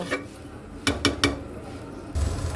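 A lid is set onto a cooking pot of potato and soybean curry, three quick metallic clanks in a row followed by a duller knock, close up over a quiet kitchen background.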